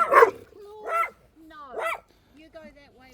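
Dogs named Quigley and Toto on a beach walk at Petone Beach, with a few short sharp barks and yips spaced apart, close by, while a person talks.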